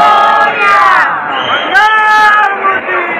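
A dense crowd in the darshan queue at Lalbaugcha Raja, loud and close, with many voices chanting and shouting together in a sustained roar.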